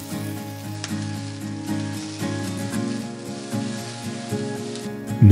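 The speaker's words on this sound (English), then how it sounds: "Saute the onions for 2 to 3 minutes. Mushrooms and green onion." Onions, mushrooms and green onion sauté in a pan with steady close sizzling, broken by occasional sharp crackles and stirring knocks. A hum runs underneath, and no one speaks.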